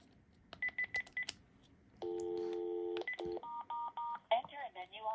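A Panasonic KX-TG9344 cordless phone sounds its keypad tones: several short rapid key beeps, then a long steady tone and a string of shorter tone bursts of varying pitch, clear and close.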